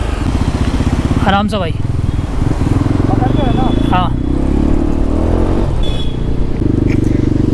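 A Yezdi Adventure motorcycle runs with a steady, close engine drone, and people talk over it throughout.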